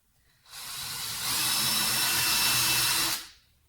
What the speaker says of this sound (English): So I'm doing a little pilot hole in each of these